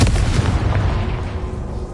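Confringo explosive spell cast in Hogwarts Legacy, a loud, close burst at the start that rolls into a heavy, rumbling boom and fades over two seconds.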